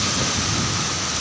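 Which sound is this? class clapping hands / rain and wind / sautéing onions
rain and wind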